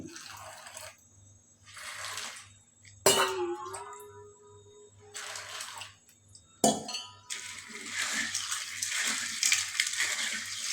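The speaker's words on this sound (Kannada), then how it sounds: "ಇವಾಗ ನಾನು ಎಲ್ಲ ಕಾಳುಗಳನ್ನು ಒಂದು 3ರಿಂದ 4 ಸಲ ಸ್ವಚ್ಛವಾಗಿ ತೊಳ್ಕೊಬಿಡಬೇಕು" Sprouting grains being washed in water at home give off splashing and swishing in several bursts, with a couple of sharp clinks from a vessel, close and fairly quiet, no talking.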